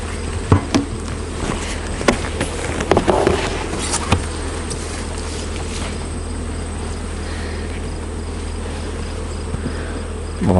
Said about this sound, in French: Vous voyez les abeilles qui tournent autour?